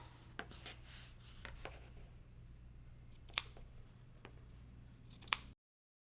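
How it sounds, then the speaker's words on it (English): A few sharp snips of scissors cutting through ric-rac fabric trim, spaced apart, close to the mic against a faint steady background hum. "Now I'm going to just cut the edge of the Ric-Rac off."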